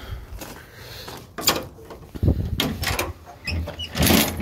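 The folding bedside of a Honda Acty HA4 mini truck is lowered, giving a string of loud, close metallic clunks, rattles and thumps spread over a few seconds, with no speech.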